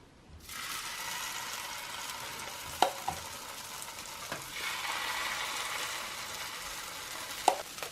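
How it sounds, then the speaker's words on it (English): Steady frying sizzle from pancakes in a hot buttered pan, fairly quiet, with a few small clinks and taps over the constant hiss. "there's tons of butter in my frying pan and it's nice and steaming hot, sizzling away"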